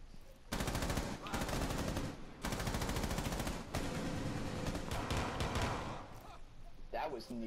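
Rapid automatic gunfire from a heavily recoiling weapon in a realistic tactical shooter's terrorist hunt mode, fired in several long loud bursts with brief gaps, ending with a faint voice.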